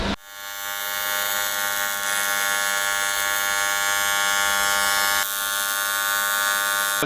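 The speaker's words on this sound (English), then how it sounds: "Dremeling that back out with a die grinder" A die grinder with a carbide burr grinds out a weld on an alloy wheel, a loud continuous high-pitched whine held close and steady, with a slight shift in pitch partway through.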